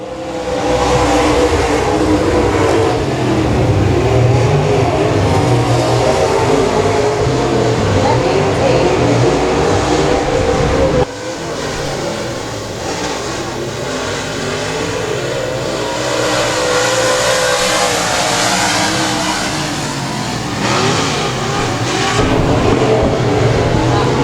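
Dirt track race car at Boothill Speedway roaring hard on the throttle out of turn four, a loud sustained engine howl with a brief dip midway before the revving surges again, with an announcer talking over it.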